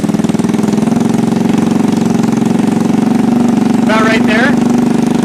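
GY6 scooter engine idling at close range while its carburetor mixture screw is adjusted, a steady continuous drone throughout, with a brief voice near the end.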